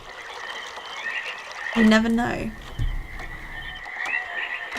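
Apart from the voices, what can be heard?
frogs croaking ambience in the video game realMyst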